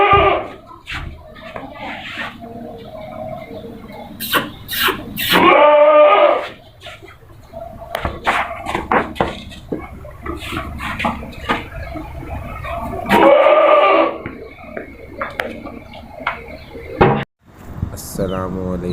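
Goats bleating at a livestock market, including a black young billy goat, with several loud bleats breaking through over ongoing talk and background bustle.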